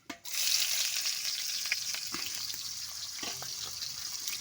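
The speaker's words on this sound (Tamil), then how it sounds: "இப்போ வெங்காயத்தை வந்து நம்ம நல்லா வதக்கி விட்டுக்கலாம்" Onions sauté in a pan for a pumpkin poriyal, a strong bright sizzle that bursts in at the start and slowly settles into a steady hiss, with a few light scrapes and clinks of stirring.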